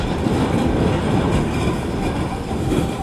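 Oncoming train rumbling loudly and steadily at a rail crossing in West Odessa, Texas, bearing down on a pipe-laden truck rig stuck on the tracks; a dense, continuous roar of wheels and engine with no pauses.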